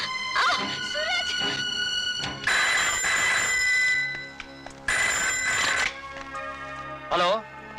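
A telephone bell rings in repeated bursts across the scene, loud and close, with dramatic film music and a voice speaking between and over the rings.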